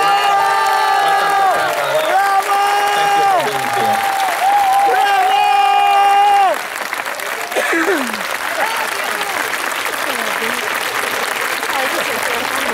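An audience at an outdoor event in Segesta, Sicily, applauds to welcome Prem Rawat, a dense steady clapping with some cheering, while a voice speaks through sustained tonal music over the top.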